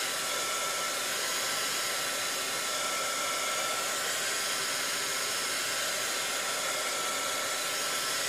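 Steady, loud hair dryer roar running continuously without pause while drying a mixed media shabby chic tag, no voices.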